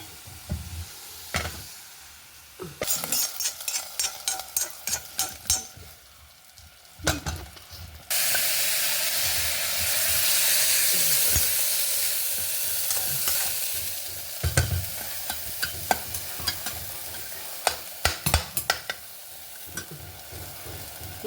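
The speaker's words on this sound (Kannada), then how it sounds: "ಸಾಸಿವೆ ಹುಟ್ಟುತ್ತಾ ಇತ್ತಲ್ಲ" Mustard seeds sizzle and crackle in hot oil as a tempering for a amaranth greens mudde huli, with scraping stirs in the pan, then a loud steady hiss as more is added, with no talking.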